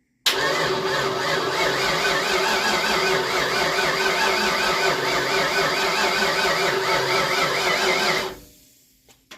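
An old car untouched for 26 years cranks steadily with the ignition on but never fires, a continuous whirring starter drone that runs for about eight seconds and then stops abruptly.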